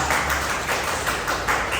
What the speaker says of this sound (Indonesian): tepuk tangan dulu untuk bisa